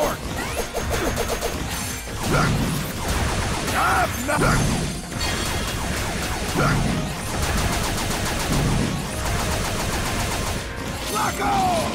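Rapid, loud bursts of gunfire and crashing impacts from a military base battle in the video game Mighty No. 9, dense and continuous with swooshes and voiced callouts woven through the action.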